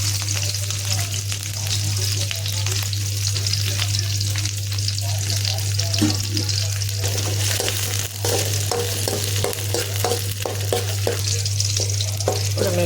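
Chillies fry in oil for an Andhra spinach chutney, a loud, continuous close sizzle with occasional stirring clinks over a steady low hum, and no talking.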